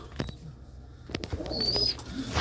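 Pigeons in a coop give short, close coos amid soft rustling and faint chirps, the sounds growing busier toward the end.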